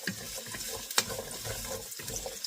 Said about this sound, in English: Let me just stir it around to get them coated in some oil